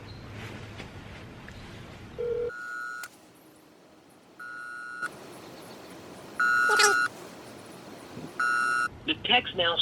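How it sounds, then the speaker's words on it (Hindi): A phone call to a TextNow number rings out through a handset, with repeated ringback tone bursts separated by pauses and a faint electronic sweep between them, leading into an automated voicemail connection. "घंटी जा रहा है।"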